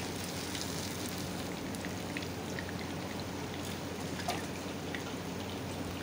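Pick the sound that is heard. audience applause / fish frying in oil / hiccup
fish frying in oil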